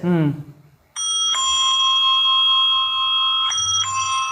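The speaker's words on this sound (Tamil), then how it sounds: "இது வந்து cycle bell, ringing of a cycle bell." A clear metallic bell rings out in a sustained, bright tone, struck again partway through, after a brief bit of voice at the start.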